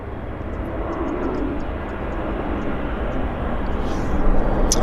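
A jet airliner rumbles with a broad, steady roar at Vancouver International Airport, growing slightly louder toward the end with faint high chirps above, heard from a plane-spotting position without talk.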